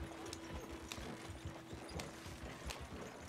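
Horse hooves clip-clop steadily in a roleplay video game, a continuous rhythmic trot with faint mechanical clatter underneath and no talking.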